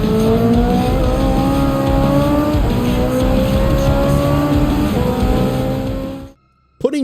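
Race car engine from the driving game Gran Turismo 7, a loud continuous roar with rising and falling revs and gear changes, cutting off abruptly near the end before a brief sweep.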